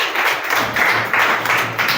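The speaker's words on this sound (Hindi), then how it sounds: "आप सभी लोग ताली से आर्यन का उत्साहवर्धन करें" Children in a classroom clap together to cheer a boy, a steady run of brisk overlapping hand claps lasting the whole moment, moderately loud and fairly close, with no talking.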